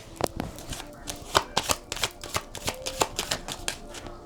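Tarot cards being shuffled and drawn by hand: a steady run of quick, close, crisp riffling slaps and flicks continues for several seconds without anyone speaking.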